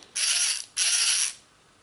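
Two sustained buzzing whirs from an OEMTOOLS R2 rechargeable 3/8-inch drive speed ratchet, each motor run lasting about half a second with a short pause between, close and clear with no talk.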